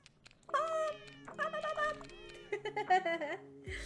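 A cat meow sound effect triggered on hover or click in a video game, several short tonal mews in quick succession, clear and fairly quiet, with a soft clunk at the end.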